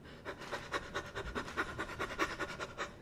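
Rapid, shallow panting breaths from a person gasping for air after being washed into the ocean, a steady quick rhythm of about fifteen breaths in three seconds, close and fairly loud with no talk.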